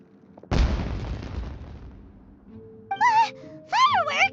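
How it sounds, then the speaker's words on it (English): Fireworks explode in the video game Genshin Impact, one sharp loud boom that rumbles and fades over about a second, followed by voiced sounds from characters. "Was that an explosion? It sounded like fireworks."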